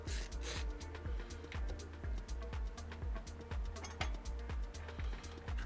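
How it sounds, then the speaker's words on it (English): Screws being backed out of a gaming PC case with a hand screwdriver, heard as a close, steady run of quick rasping, clicking turns that repeat in an even rhythm with no talking. "We got 2 screws to take out."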